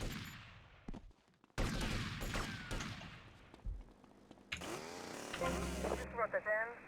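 Bursts of video game gunfire, loud crackling volleys separated by short gaps, mixed with other game effects and sliding electronic tones near the end.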